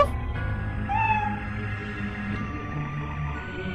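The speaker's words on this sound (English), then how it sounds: "Oh, it's a kitty." A cat meows in the Lethal Company video game, one rising call standing out over a steady low in-game hum and background noise.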